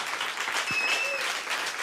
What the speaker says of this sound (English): Please give a nice round of applause to Ari.